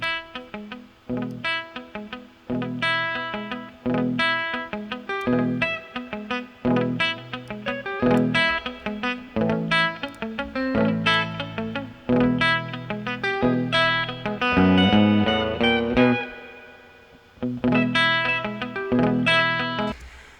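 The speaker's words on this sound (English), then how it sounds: "But this is spring reverb." Panned electric guitars play a rhythmic, chordal riff through spring reverb, the tone slightly distorted with splashy decay tails ringing between strummed hits, loud and continuous throughout.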